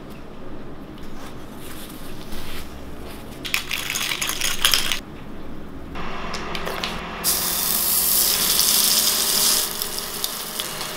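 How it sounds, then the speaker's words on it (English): Salmon fillet sizzling skin-down in a hot skillet while pressed flat, a loud hissing crackle that flares in bursts and swells into a strong continuous sizzle toward the end. "The reason why I'm pressing it down like this is how you crisp up the skin."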